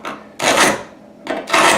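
Hand tool scraping grout out between tiles, a harsh gritty rasp that comes in short bursts with brief pauses between strokes, close and loud.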